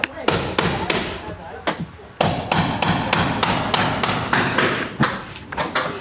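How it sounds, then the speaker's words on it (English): Sharp metallic hammer blows strike a high-top van roof during a conversion, coming in irregular bursts of close, loud impacts with brief pauses, a voice faintly present underneath. "This noise is from the hammering."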